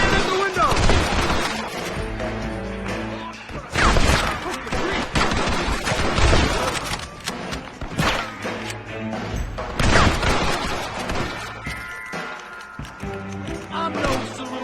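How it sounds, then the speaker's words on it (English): Dense gunfire rings out through a Red Dead Redemption shootout, rapid overlapping shots and crashes bursting loud and near in waves across the whole stretch, with shouted voices mixed among the blasts. "Open fire! Get the man in the window!"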